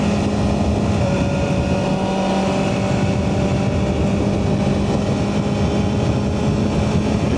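A BMW M1000RR superbike at speed, giving a loud, steady rush of wind blended with a continuous engine drone that runs unbroken from start to finish, with no talking.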